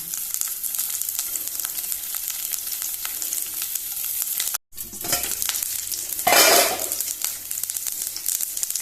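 Curry leaves and green chilies hit hot oil in a Goan jackfruit-seed dish, setting off a steady close crackling sizzle. A brief dropout comes before a louder burst of spattering as more goes into the pan.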